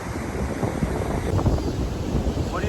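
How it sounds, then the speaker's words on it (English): Strong wind buffets the microphone in a continuous rough roar on a beach after Hurricane Milton, with surf faintly audible underneath. "It's windy, but I can't believe we have people in the water."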